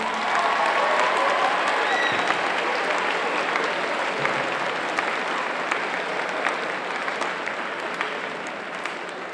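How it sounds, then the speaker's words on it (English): A school assembly audience claps and applauds together at a Day of Caring assembly, a dense, steady roar of many hands that holds strong for the whole stretch, with a faint murmur of voices mixed in. "Can we give them a round of applause, please?"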